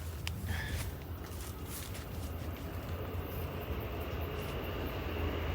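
Faint, steady rumble of a train passing near a railway tunnel in New Zealand, a continuous low roar heard from a distance with no voices.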